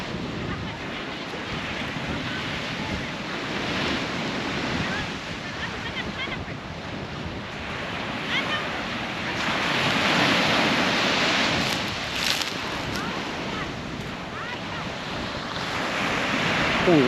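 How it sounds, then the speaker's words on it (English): Ocean surf breaks steadily along an Outer Banks beach, a broad, continuous wash that swells and recedes, with wind buffeting the microphone. "Ocean conditions right there."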